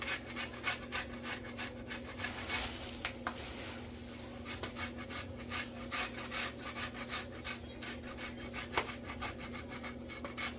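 A bar of orange zest soap is rubbed against a grater in steady, rapid scraping strokes, a dry rasping texture that continues without pause, quiet and close.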